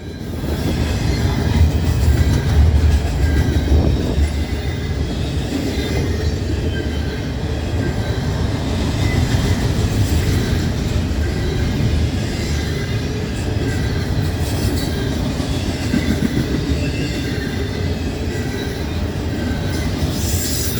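A long freight train hauling foreign locomotives and stacked cars rolls past nearby with a steady, loud rumble and rhythmic wheel clatter that stays constant throughout, with faint squeals now and then.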